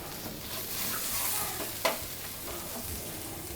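Bread bonda mixture frying and being stirred in a pan, a steady soft sizzle with a brief scrape of the spoon near the middle, close and continuous with no talk.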